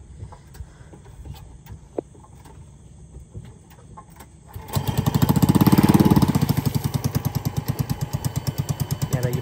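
A boat's outboard engine on a river is pulled into life after a quiet stretch with faint birds, then roars loudly and settles into a fast, throbbing putter that keeps running close by.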